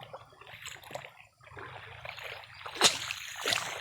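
Water flows steadily downhill on a small hillside farm, a continuous trickling and splashing murmur heard close by, with a few louder splashes and no voices.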